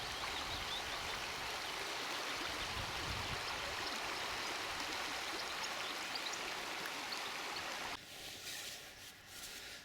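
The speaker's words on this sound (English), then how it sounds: "Water running over stones in a river." A river runs over stones in a spring meadow, a steady close rushing and burbling flow that fills the clip and drops to a quieter, thinner trickle near the end.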